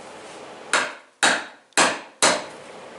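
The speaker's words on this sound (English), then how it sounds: "to install this seal, we're using the Craftsman seal installation tool" Four sharp, evenly spaced taps ring out up close as a seal installation tool drives a new crankshaft seal into the housing of a Stihl 036 chainsaw, each strike decaying quickly over a quiet background.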